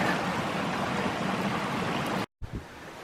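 Rushing waterfall near Outpost Camp on the Mount Whitney Trail, a steady broadband roar of falling water close by that cuts out abruptly for a moment near the end, then resumes more quietly.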